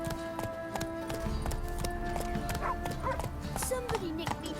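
Roach the horse trots in The Witcher 3, hooves clip-clopping in a steady rhythm close by while voices talk over the game sounds.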